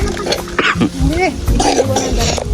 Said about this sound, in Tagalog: Tulad ko, tingnan mo, inuubo.